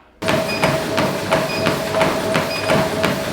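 Lighter running steps on a treadmill at a quicker cadence, soft regular taps over a steady motor whine, starting abruptly after a moment of quiet.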